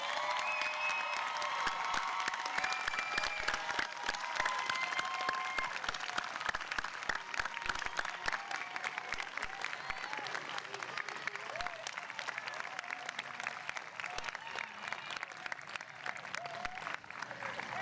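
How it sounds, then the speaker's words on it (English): Sustained applause from a large graduation ceremony audience at a high school commencement, dense and steady clapping filling the space for the whole stretch with faint crowd murmur underneath. "give them a big, nice round of applause"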